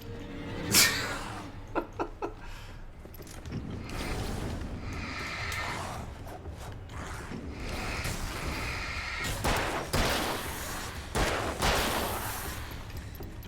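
Gunshots in the video game Alan Wake as cans are shot: a sharp, loud crack opens, followed by a few more scattered shots and metallic clatter over a rumbling in-game background.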